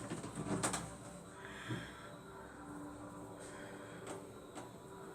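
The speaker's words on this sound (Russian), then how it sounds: "Птицы какие-то сидят, каркают, сутятся" A flock of jackdaws gathered in a tree caws and chatters in scattered bursts, faint and somewhat distant over a low background hum.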